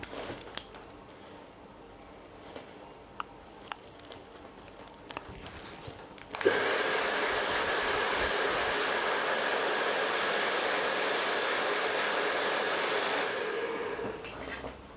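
A hair dryer blow-drying hair for an outward-curl style switches on about six seconds in and roars steadily and loud, after a quieter stretch of faint handling and brushing sounds.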